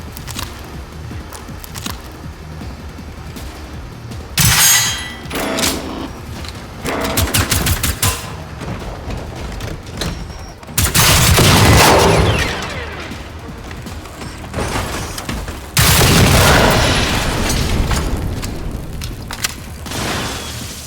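Gunfire inside an enclosed room in the video game Generation Zero, several loud bursts of shots with a booming, reverberant edge, separated by quieter gaps with mechanical clatter.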